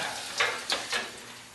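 Hot 5160 steel blade dipped edge-first into quench oil, producing three short bursts of hissing sizzle close by, each fading quickly, no voices.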